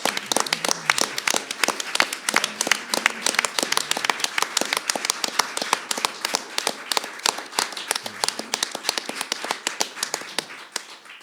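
Dense applause from a conference audience on organic farming, many hands clapping in a steady, sustained patter at close range, tapering slightly toward the end.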